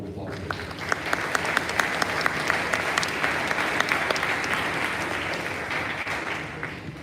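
Audience applause at a school convocation ceremony, steady dense clapping from a large crowd filling the hall for about seven seconds, fairly loud and sustained throughout.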